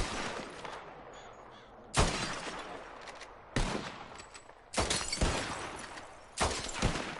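Revolver shots ring out one after another in a bottle-shooting contest in Red Dead Redemption 2, five loud sharp cracks spaced about a second apart over a steady background hiss.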